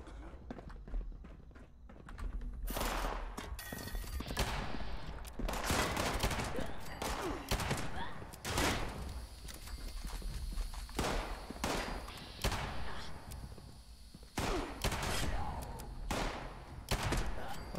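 Repeated gunshots from a gun in Fallout 76, sharp loud cracks fired at irregular intervals through the clip over a busy game background of footsteps and ambient noise.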